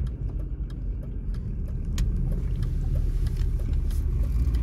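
Steady low rumble of a BMW being driven, heard from inside with constant road and engine noise and faint ticks and rattles, no talking.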